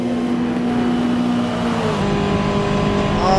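A race car in a sim racing game roars past, its loud engine tone sliding downward, layered over the steady drone of the player's own car engine for the whole stretch.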